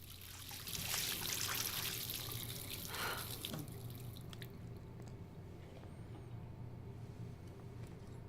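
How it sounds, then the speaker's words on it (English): Running tap water while a character washes her face in the video game Life Is Strange, a steady close splashing stream that is loudest in the opening seconds and then settles into a softer, continuous trickle, heard alone. "So just gonna wash my face."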